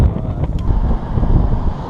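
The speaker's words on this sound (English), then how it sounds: "A little bit windy today. It's super windy." Strong gusting wind buffets the microphone with a constant low rumble throughout, loud and close, with no voices.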